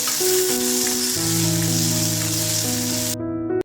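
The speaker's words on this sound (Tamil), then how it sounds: "அப்புறம் இஞ்சி பூண்டு பேஸ்ட்டு ஆட் பண்ணி, தீயாத அளவுக்கு நல்லா வதக்கி எடுக்கணும்." Ginger garlic paste fries with dried red chillies and fennel in hot oil, a loud steady sizzle with a faint tonal hum underneath, ending abruptly.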